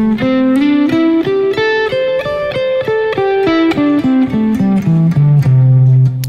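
A guitar plays a quick run of single picked notes climbing then descending, with a slide between positions, clear and close with steady rhythm.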